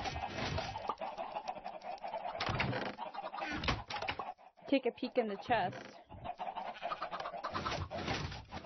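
Chickens cluck intermittently in Minecraft, short pecking calls scattered under a person talking at close range.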